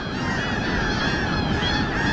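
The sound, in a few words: seagulls calling while landing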